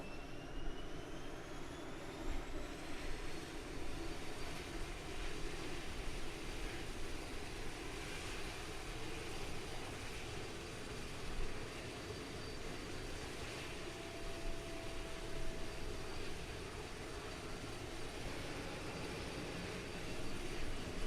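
A steady, droning light-aircraft engine set at 4,720 revs holds one even pitch for the whole stretch, loud and close as if heard from inside the cabin above the clouds, with no talking.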